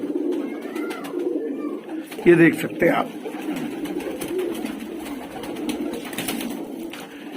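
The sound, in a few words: pigeons cooing at a pigeon market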